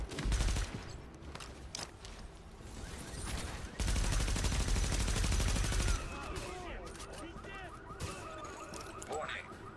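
Rapid video-game gunfire with a fast-reloading weapon, dense bursts and fusillades loud and close throughout, one heavier sustained stretch in the middle, with a game voice briefly audible in the mix.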